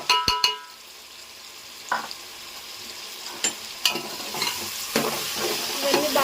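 Spices frying in mutton fat in a pan, stirred with repeated scraping strokes and crackling sizzle; several sharp utensil clinks near the start, a steady hiss underneath, close and alone.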